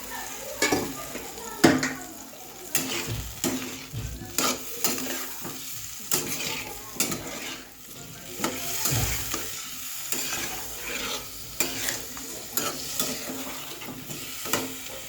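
Spices frying in a pan as turmeric and a little water go in, with a spoon stirring and scraping repeatedly against the pan over a steady sizzle, close and moderately loud.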